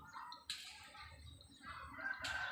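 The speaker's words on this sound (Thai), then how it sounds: "ข้างบนก็จะเป็นฟาร์มไก่" Chickens at a chicken farm in a rural field area, with two sharp, bright crowing calls among soft clucks, heard fairly faint and at a middle distance against a quiet outdoor background.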